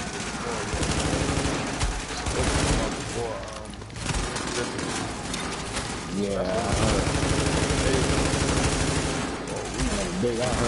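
Rapid, continuous gunfire from a video game rattles in dense bursts with brief lulls, loud and close throughout, mixed with music and a talking voice.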